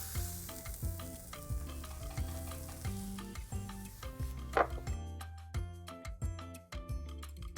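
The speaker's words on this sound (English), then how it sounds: "So we're just gonna drop him right in. So we'll put him skin down first." Duck breast placed skin down in a hot pan, a steady close sizzle and crackle of frying fat with scattered pops and spits, no voices.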